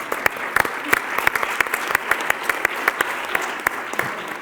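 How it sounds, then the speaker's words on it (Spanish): Audience applause at a public talk on sustainable development goals: steady, dense clapping from a crowd, sharp individual claps standing out over continuous hand noise, with no voices. "sobre todo a Juan Andrés Arz García, para quien hoy pide un aplauso"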